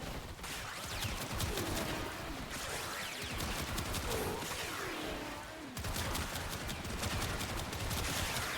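Rapid gunfire from the Kompressa weapon in Warframe, a dense, continuous burst of shots and impacts cut by a short pause near the middle, loud and alone.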